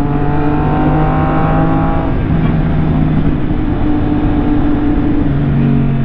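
A Suzuki GSX-S1000 motorcycle on a break-in ride, its engine droning steadily and close with sustained even tones that shift pitch slightly partway through, with wind rush and no talking.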